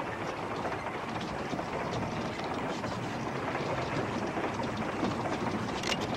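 A moving train rolls along with a steady, dense rumble and clatter, continuous and fairly loud throughout without a break.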